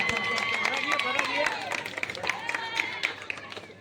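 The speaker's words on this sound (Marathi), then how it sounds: "आपण सर्वांनी जोरदार टाळ्यांच्या गजरात दादांचं स्वागत करायचं आहे।" An audience claps at a Chaitra Navratri festival programme to welcome an honoured elder, producing a dense, steady patter of applause that runs for a few seconds with crowd noise and voices mixed in.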